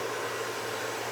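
A hair dryer fitted with a nozzle blows steadily while drying hair, a constant close airy whoosh with a low hum underneath and no speech.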